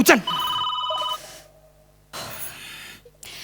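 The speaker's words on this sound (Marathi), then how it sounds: "फोनची रिंग." A telephone rings in a comic stage sketch, a short bright ring burst near at the start followed by steady electronic tones, with quieter stretches and background noise after.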